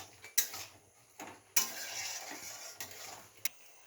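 A spoon scrapes and stirs egg bhuna curry in a pan, with a few sharp metallic clinks against the pan over a faint background sizzle and no talking.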